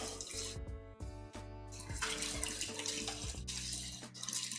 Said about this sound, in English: I just gotta run this under some hot water for a few minutes.